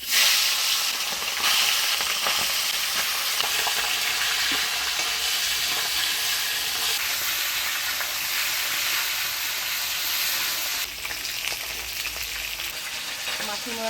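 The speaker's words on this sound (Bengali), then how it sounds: "এবার মাছের মুড়াটা ভেজে নেব।" A fish head fries in hot oil in a home kitchen, giving a loud, continuous crackling sizzle that stays dense and even from start to finish, with a faint voice briefly underneath.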